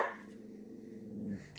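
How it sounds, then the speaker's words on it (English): A pet dog barking or grumbling at its own cat indoors, a low rough vocal sound near the microphone over a brief stretch, with a small snap at the end. "why are you barking at your cat?"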